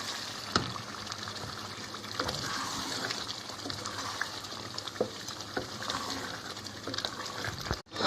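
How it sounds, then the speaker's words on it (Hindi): Milk poured into a hot pan of spinach and chicken, a steady liquid gush and bubbling sizzle running throughout, loud and close, with a brief clatter near the end. "ये मैंने दूध डाल दिया इसमें"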